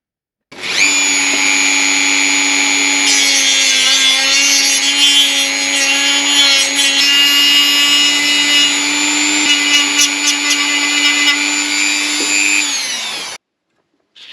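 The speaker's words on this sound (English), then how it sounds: "Making these cuts with the disc gives me a tapered edge" A cutting disc slicing through truck headlight retention clips gives a loud, high, continuous whine for about thirteen seconds before cutting off abruptly, with no one speaking.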